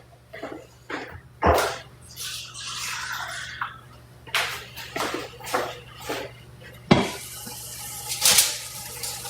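Water splashes and pours in short bursts into a cooking pot with chicken, with a longer gush near the end, over a low steady hum; no talking.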